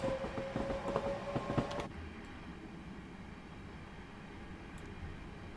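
A Class 466 electric multiple unit running in the Train Simulator game on the Southeastern network, with a louder rumbling passage in the first two seconds that settles into a steady, moderate running drone.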